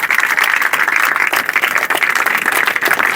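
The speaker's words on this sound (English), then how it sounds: "Can you please give a huge round clap for this?" Dense, steady applause from a large crowd at a school annual function, loud and continuous with no voices rising above it.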